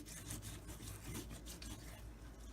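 Dry rub seasoning rubbed by hand into raw steaks, a faint continuous rasping and rubbing with quick repeated strokes, close and quiet with no talking.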